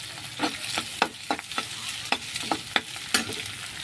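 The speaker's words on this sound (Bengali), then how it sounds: "ডিমটা যাতে না পুড়ে যায় তার জন্য নাড়াতে হবে সুন্দর করে" Egg frying in a pan, stirred so it does not burn, giving a soft sizzle under a quick irregular series of scraping, tapping spoon strokes, close up with no talk.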